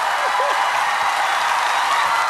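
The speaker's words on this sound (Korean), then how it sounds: "박수 한번 크게 주세요." Studio audience applause at the Gag Concert comedy show on KBS, a dense continuous wash of many hands clapping that stays loud and unbroken throughout, with faint voices beneath.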